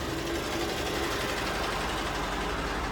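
A diesel pump at a Bharat petrol station fills a truck with fuel, giving a steady, unbroken mechanical whir and drone at even volume, with no voices over it.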